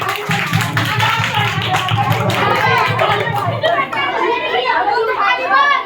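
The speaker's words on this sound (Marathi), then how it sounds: "त्यांच्यासाठी टाळ्या वाजवा सगळ्यांनी" A group of children claps together in a lively burst in a classroom or group setting, cheering a winning group, hands slapping quickly over excited young voices and chatter.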